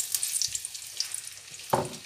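Onions go into a heating frying pan for sweet potato leaves: a faint crackle of hot oil, then a sudden louder burst of sizzling as they land near the end.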